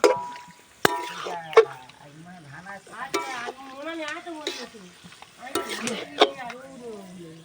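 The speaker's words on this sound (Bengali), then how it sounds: "এই ভালোভাবে নেড়ে নিতে হবে এইগুলো" Meat curry with coriander leaves is turned in a pan, with a few sharp spoon knocks against the metal and soft stirring between them, while a voice sounds intermittently in the background.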